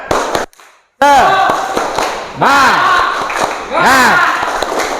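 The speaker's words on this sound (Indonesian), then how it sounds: "Ya, sekali lagi tepuk semangat." Standing classroom students perform a rhythmic spirit clap chant together, loud sharp claps and shouted voices in bursts, with a brief silent gap near the start and a few pitched vocal sweeps.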